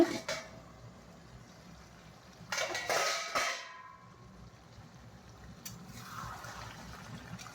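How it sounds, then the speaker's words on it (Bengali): A metal plate used as a lid is lifted off a pot of simmering home-style desi chicken curry, a brief burst of clanking dish noise in the middle, with quiet kitchen background before and after. "এই যে এখন থালাটা তুলে দেখি"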